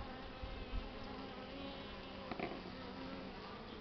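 Honeybees buzz around hives early in the season, a steady faint droning hum from many insects with a few closer passes rising briefly above the swarm.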